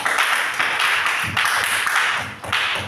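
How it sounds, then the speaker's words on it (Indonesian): Classmates clap for a student during a classroom history lesson, a steady, fairly faint round of applause that carries on for a few seconds, with no talking over it. "Tepuk tangan untuk Saskia"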